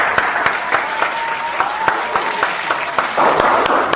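Loud, vigorous applause from a quiz game show audience in Korba, India, with sharp individual claps standing out over a continuous wash of clapping.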